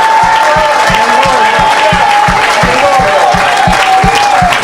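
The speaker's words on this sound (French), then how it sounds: "Donnez notre acclamation." Worshippers at a French-speaking evangelical church service clapping and cheering loudly, with a regular rhythmic beat running beneath the continuous applause and voices of the crowd.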